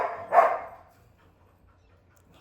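Dogs in a house: one sharp, close bark rings out and quickly fades into near silence.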